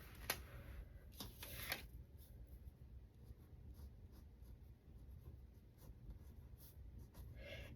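Pen writing measurements onto scrapbook paper, a close scratchy scribbling in short bursts with a few sharper strokes and quiet pauses between.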